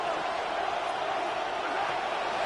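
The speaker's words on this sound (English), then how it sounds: "This crowd's into it now as we get to third down." A football stadium crowd roars steadily before a third-down play, a dense, continuous wash of cheering and noise with no break across the moment.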